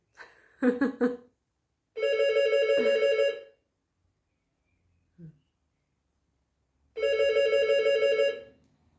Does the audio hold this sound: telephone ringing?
yes